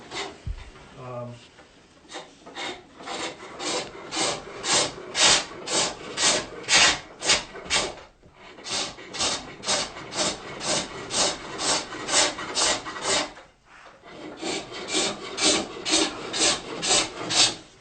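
Wood being turned on a pole lathe with a hook tool, a rhythmic series of rasping cutting strokes in regular bursts, each rising and falling with the treadle, with a couple of short pauses between runs.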